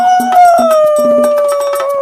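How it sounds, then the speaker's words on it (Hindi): Animated fox joining a pack of foxes in a drawn-out howl, a sustained wavering cry gliding slowly downward, loud and close, with faint rhythmic clicks and background music underneath. "ये देख आदतवश वो लोमड़ भी लोमड़ियों के सुर में सुर मिलाकर चिल्लाने लगा।"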